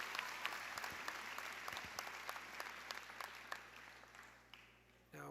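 Applause from a commencement ceremony audience, broad even clapping heard from a distance, quiet and continuous with scattered sharper claps, fading slightly before a sudden rise at the very end.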